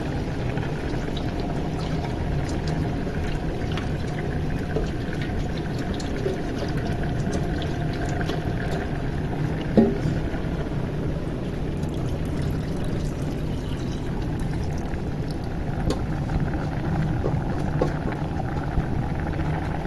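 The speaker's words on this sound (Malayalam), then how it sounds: "ഇനി ഇതിൽ നമുക്ക് പുളി ഒഴിക്കാം" Tamarind water poured into a simmering home-cooked curry produces a long, steady liquid rush blended with soft bubbling, even in loudness and close by, with no talk.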